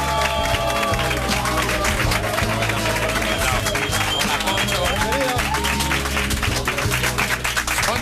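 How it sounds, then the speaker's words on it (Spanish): A crowd claps loudly and steadily, dense applause filling the whole stretch over a low background hum. "Un aplauso muy fuerte para Poncho Herrera."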